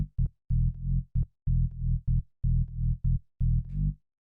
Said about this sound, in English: The next sound we have here is the bass,